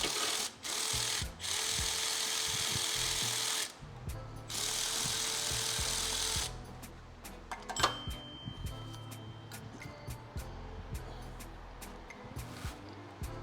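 A hand ratchet works 15 mm bolts on the power steering pump of a 2015 GMC Acadia, with fast, close clicking bursts, then quieter scattered clicks and metal taps.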